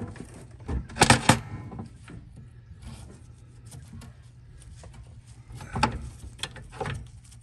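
A steering shaft being fitted back into a John Deere L, LA or D series riding mower, heard as faint metallic scrapes, clunks and rubbing with a couple of louder knocks, close by and with no talk.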